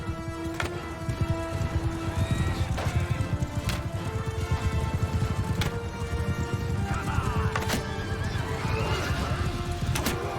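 In Mount and Blade Bannerlord, a horse whinnies loudly over a steady, rapid clatter of galloping hooves in the middle of a battle, with game music running underneath.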